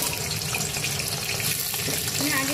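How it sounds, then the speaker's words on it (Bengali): Potatoes are added to hot oil for chicken biryani: a loud, steady sizzle and crackle of frying that fills the whole moment, close and constant. "এবার আমি আলুগুলো দিয়ে দেবো।"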